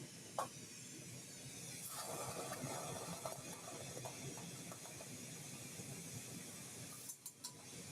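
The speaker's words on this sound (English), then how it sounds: "We're going to make a sizzle." Molten glass is pulled off during live glassblowing at around 4000 degrees and gives a soft, continuous sizzling hiss. The hiss swells after the first couple of seconds and holds at a low level, ending with a few sharp clicks and no talking.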